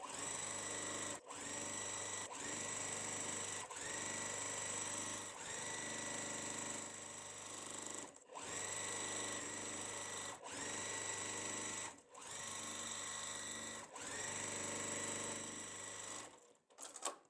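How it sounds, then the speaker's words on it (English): A sewing machine stitches pinned quilt block segments in long steady runs of rapid mechanical whirring, broken by several short pauses, close and continuous throughout. "What I'm going to do now is just sew."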